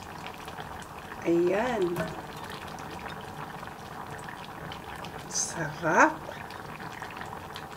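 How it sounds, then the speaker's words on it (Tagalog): Bitter gourd with kidney beans simmering in a pot, a soft continuous bubbling under a short spoken comment, with a brief louder splash or clatter near the end. "Hayaan natin nakulo dyan."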